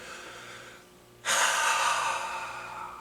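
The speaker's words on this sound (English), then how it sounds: "And we'll end it with a deep breath." One deep, close breath in, a long airy inhale that swells up suddenly after a short pause and holds steady to the end, with no talk.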